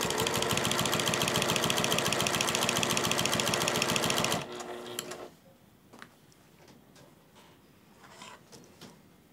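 A sewing machine stitches binding onto a quilt in a steady, fast, continuous mechanical whir for about four seconds, then stops abruptly, leaving quiet handling clicks and rustles.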